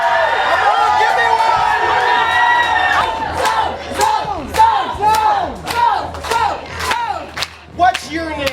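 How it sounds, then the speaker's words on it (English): A talk show studio audience shouts loudly together, a sustained roar that breaks into rhythmic, pulsing yells and whoops, close and energetic. "So if you want to be in the zone, you gotta shout louder than anyone around you!"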